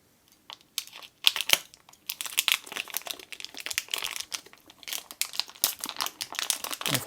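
Plastic wrapping being peeled and crinkled off an Epson ink bottle, close and crisp, with irregular bursts of crackling and tearing that come in quick clusters throughout.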